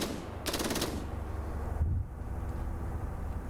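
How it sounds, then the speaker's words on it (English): Artillery firing in a modernized Battle of Waterloo mod battle, a sharp burst of rapid reports early on, then a heavy low thump, over a steady wind-like rumble. "Hearing artillery starting to fire."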